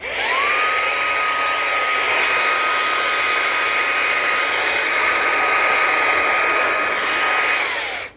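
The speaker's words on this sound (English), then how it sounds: "Actually works very good on the speakers, so without touching them you can blow the dust off of it" Fanttik B8 ACE brushless mini blower blowing dust off surfaces, a loud steady airy whine that ramps up at the start, holds a constant tone for several seconds, then winds down at the end.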